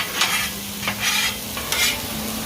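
Onions cook on a griddle for smash burgers under a steady soft sizzle, with three brisk bursts of spatula scraping and flipping close by; no talking.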